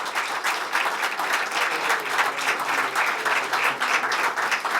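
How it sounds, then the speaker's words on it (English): A large audience at a leadership awards ceremony claps steadily, a dense, even wash of applause that holds at the same loud level throughout, with no talking over it. "a warm across-the-border round of applause for Dr."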